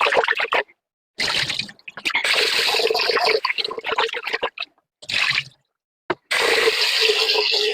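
Water is poured and swirled over cooked white rice in a pot for smoked duck breast fried rice, coming in several splashy, squishy bursts broken by short silences.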